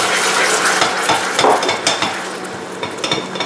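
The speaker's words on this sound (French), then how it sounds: "Alors je continue de mélanger quelques minutes pour faire fondre les petits morceaux de sucre qui restent." Hot caramel being stirred with cream in a pan for an apple caramel Yule log, a steady close scraping and bubbling with soft sizzle that continues alone without talk.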